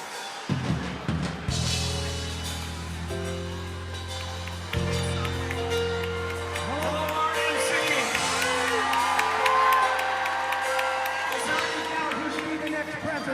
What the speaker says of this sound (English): The crowd is roaring.